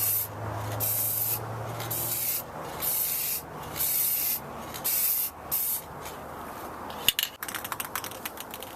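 Aerosol spray paint hisses in repeated bursts of about half a second each over a sanded car headlight lens outdoors on a calm day, with short pauses between passes and a few clicks and rattles at the end.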